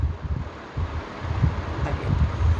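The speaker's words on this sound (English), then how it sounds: "he heard the rustling of leaves. The sound came from the bushes outside." Leaves rustling in bushes outside at night, a soft continuous crackling and swishing with breezy, wind-like noise, steady and moderately close, no voices.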